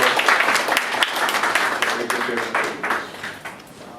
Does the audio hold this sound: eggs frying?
no